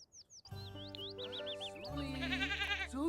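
Sheep in the video game Sims 4 Cottage Living bleating in a few close, wavering cries over a bright backdrop of game music and chirping sounds.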